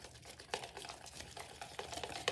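A whisk beats jack-o'-lantern cookie filling ingredients in a bowl, making faint, quick, irregular clicking and scraping taps against the bowl.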